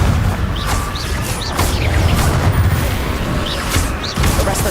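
Bursts of blasting spell explosions in a Hogwarts Legacy game rumble and crack in quick succession over a busy game background.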